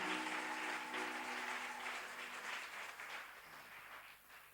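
Church congregation applauding during a worship service, a steady broad wash of clapping that fades slightly toward the end, with a faint sustained musical tone underneath at the start.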